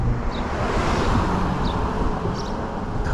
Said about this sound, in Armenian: քամի